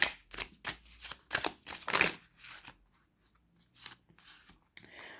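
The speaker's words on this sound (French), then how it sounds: "On va faire un tirage en pyramide." Oracle cards are shuffled and laid out in a pyramid spread, giving a quick series of crisp riffling, slapping bursts that thin into a few soft placements, close and alone.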